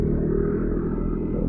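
A large motorcycle rumbling steadily close by, heavy low engine drone with a clattering edge, on a rainy group ride through water and mud.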